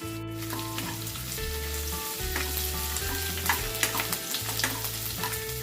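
Garlic, ginger and green chili sizzling steadily in a hot pan for Manchurian gravy, with a continuous close frying hiss and occasional stirring scrapes, no voices.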